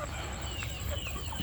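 Chickens raised for sale, batches near 1.5 to 2 kilograms, clucking softly over a steady low barnyard rumble, with scattered close calls through the short stretch and no talking.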